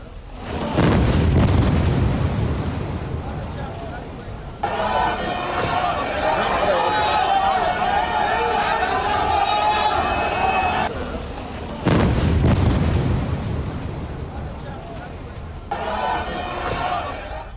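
Israeli air strikes hitting Hezbollah sites in southern Lebanon, heard as two long rolling bursts of heavy, booming low rumble. A person talks in the stretch between them.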